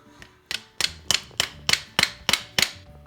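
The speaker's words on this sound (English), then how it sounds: "We'll go ahead and hammer this in." Hammer blows drive a walnut wedge into an applewood tool handle set with epoxy: about eight sharp, evenly spaced strikes, close and loud, with no talking.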